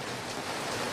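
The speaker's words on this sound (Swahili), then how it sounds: "ni mvua yenu tu, mvua nyingi." Rain pouring down on an outdoor political rally in Homa Bay County, Kenya, a dense, steady hiss of drops that stays loud and even with no voices heard.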